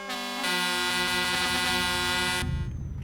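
A loud truck air horn in the video game Euro Truck Simulator 2 blares in one long continuous blast, then cuts off abruptly, leaving engine rumble behind.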